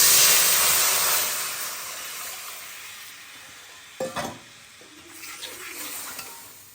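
Soaked tamarind water hits a hot pan of frying chilli, setting off a loud steamy sizzle that fades gradually, followed by a few short clatters of stirring against the pan.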